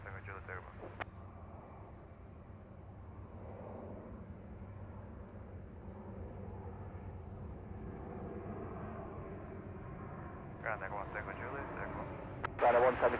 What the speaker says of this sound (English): Well, that was a go around.